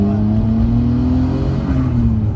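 Engine of a Nissan Skyline GT-R R34 pulls away, a loud, close, steady drone that rises slowly in pitch as it accelerates, with no talk.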